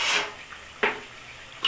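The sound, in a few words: stirring egusi soup in a pot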